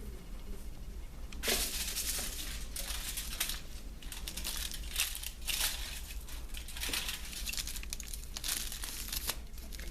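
Aluminium foils crinkle and crumple continuously while hair is prepared for a weaving chemical service in a cosmetology setting, with dense rustling and small crackles close up throughout and no talk.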